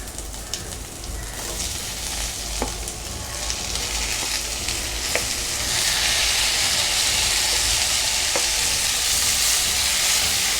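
Chopped tomatoes sautéing with softened onions and garlic in a pan for Tamil tomato kuzhambu, a steady close sizzle that grows louder and brighter midway, with occasional clicks of stirring and no talk.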